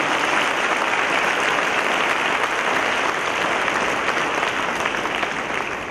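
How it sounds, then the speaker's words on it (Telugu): A prayer-meeting congregation claps loudly and continuously, a thick roar of many hands holding steady for several seconds before easing slightly at the end, with no speech over it. "గట్టిగా చప్పట్లు కొట్టడం"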